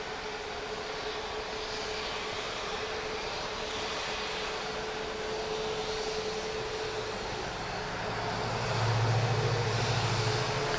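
A plane back-taxis along the single runway at Grand Cayman airport, a steady broad engine roar with a constant tone, heard from a distance and swelling slightly toward the end, with no talking.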